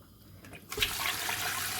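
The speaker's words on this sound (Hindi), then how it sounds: "तो अब इसमें हम पानी डाल देते हैं।" Water pours into a pot of beef paye curry, a soft gushing splash that starts abruptly after a quiet moment and continues steadily, fairly faint and close.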